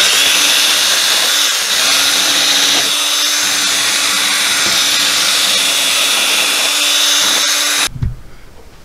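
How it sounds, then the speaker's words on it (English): A sanding drum on a power drill grinds burrs off a cut pipe end, making a loud, close, continuous whine with small dips in load before it cuts off abruptly near the end. "I'm just going to use a sanding drum on a drill to clean that up with"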